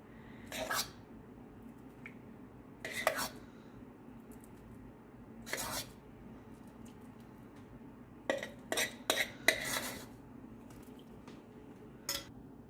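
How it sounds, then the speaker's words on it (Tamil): Cooked moong dal for payasam being stirred in a metal pot, heard as scattered spoon clinks and scrapes against the pot, with a quick cluster of strokes later on, fairly faint over a quiet room. "பருப்பு நல்லா கலந்து விட்டாச்சு."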